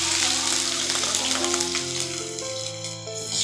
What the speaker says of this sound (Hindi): तेल गर्म होने पर इसमें प्याज डाल दें।